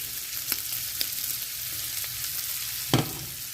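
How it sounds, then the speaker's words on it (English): Onion, peppers and celery sizzle in a cast iron skillet, a steady faint hiss of frying broken by a few soft clicks and one sharper stirring clatter near the end. "I'm going to go ahead and dump that into my cast iron skillet here."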